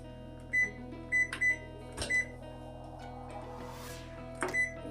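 A microwave oven running on low power to melt butter in a home kitchen, a steady low hum with a few brief beeps and clicks, heard alone at moderate level.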